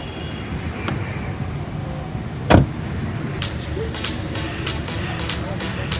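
Inside a Volkswagen Polo TSI automatic at the start of a test drive, a low cabin rumble carries a sharp thump midway, followed by a run of light clicks.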